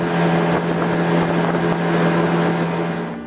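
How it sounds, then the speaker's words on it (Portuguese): A voadeira motorboat engine drones loud and steady on an Amazon river, a continuous close roar with a strong low hum that holds throughout and fades only slightly at the end. "O silêncio se rompe com o ronco do motor da voadeira."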